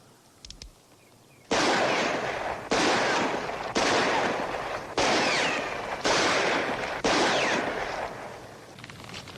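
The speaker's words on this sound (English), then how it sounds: "why don't you just take out your gun and shoot at something?" Six loud revolver shots, evenly spaced about a second apart, each a sharp crack trailing into a brief echo, fired in an old Western town street scene.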